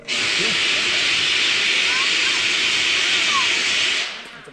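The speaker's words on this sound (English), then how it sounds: "It's a blowdown. It's just getting extra steam out of the boiler." A steam locomotive's boiler blowdown on a heritage railroad: a loud, steady, close hiss of escaping steam runs for about four seconds, then quickly dies away.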